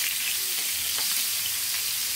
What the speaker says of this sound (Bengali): এবার একটা প্যানে আমি সয়াবিন তেল দিয়ে মাছটা হালকা করে ভেজে নিব।